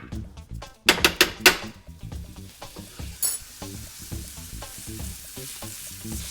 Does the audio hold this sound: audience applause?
no